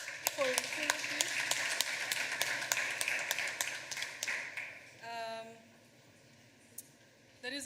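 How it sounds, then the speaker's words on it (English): Audience applause at a launch event for an online payroll tax filing platform, a dense burst of clapping lasting several seconds before fading out, followed by a short pause with a voice briefly heard. "round of applause for Ishema, please"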